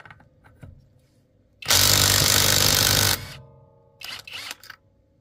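Bauer brushless 3/8 inch cordless impact wrench with a 5 Ah battery, one loud sustained burst of rapid hammering lasting over a second, then a few shorter bursts, close by with no talk.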